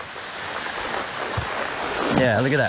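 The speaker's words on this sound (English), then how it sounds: "Oh, another waterfall." A waterfall in a hidden canyon, reached on horseback, gives off a steady rushing roar throughout, with a person speaking briefly over it near the end.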